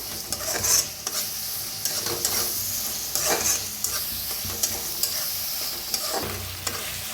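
Tomatoes and coriander roast in a hot pan, sizzling steadily while a spoon stirs and scrapes them in repeated close strokes. The frying noise and stirring stay fairly loud throughout, with no speech.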